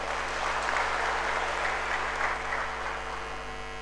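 A church congregation claps during praise and worship, an even wash of many hands beating together under a low electrical hum, with no voices.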